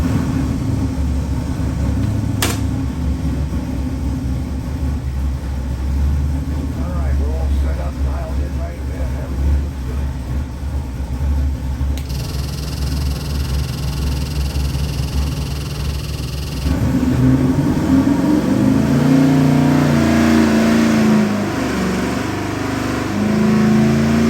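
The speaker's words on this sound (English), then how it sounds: "I got your airboat motor engine on the dyno. Happens to be the 441 LS with the twin throttle body. It's gonna fire it up." A 441 LS airboat engine with a twin throttle body runs on a dyno, a loud steady roar that surges and revs, with a voice speaking over it.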